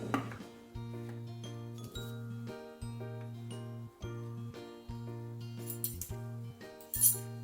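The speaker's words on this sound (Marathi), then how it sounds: "आता ह्या वाट्या ठेवते मी" Small steel bowls clink one after another as they are set into a steamer pot for dhokla, making bright metallic taps over a steady low hum of boiling water.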